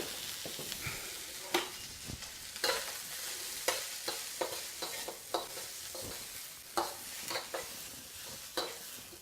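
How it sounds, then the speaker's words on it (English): Onions stir-frying in a wok, a steady sizzle broken by repeated scraping clatters of a utensil against the pan, close and fairly quiet. "So we'll just give it a couple of minutes of stir frying."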